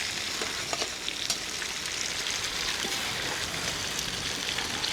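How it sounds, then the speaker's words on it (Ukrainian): Onion fries in oil for plov while being stirred, a soft, even sizzle with faint scraping and crackle throughout, fairly quiet and alone. "тепер мішаємо, щоб наша цибулька трошки піджарилася"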